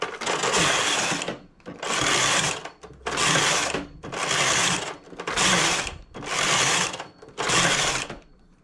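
A knitting machine carriage slides back and forth across the needle bed in seven even, loud whirring passes, each separated by a brief pause, while stitches are decreased for a round lace neckline.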